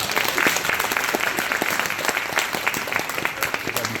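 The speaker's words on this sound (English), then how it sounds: "Start clapping." An audience at a legal rights clinic event claps together, a loud, busy patter of many hands that continues evenly throughout, with voices faintly mixed in.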